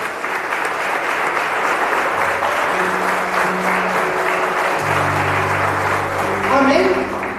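A church congregation applauds during a worship service, a loud continuous wash of clapping with sustained organ or keyboard tones underneath and voices mixed in toward the end.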